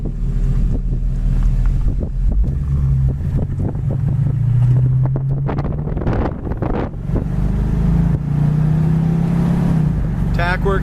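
A 1973 Mercury Cougar XR7 with a 351 Cleveland two-barrel V8 drives along with its automatic transmission kicking down and upshifting, and a steady loud engine drone sits under wind rush and a voice talking.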